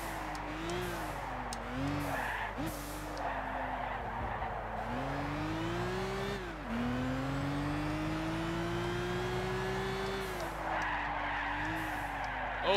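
BMW race cars in Gran Turismo 6 one-make racing, engines droning and shifting pitch with long tire squeals and skids, moderately quiet and continuous with no talk over it.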